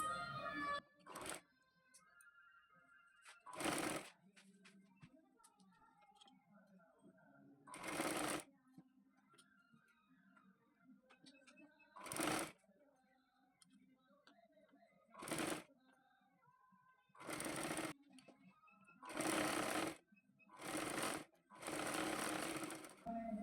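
A sewing machine stitches a katori seam on a blouse in repeated loud bursts of a few seconds each, separated by quiet pauses with faint handling and rustle between runs.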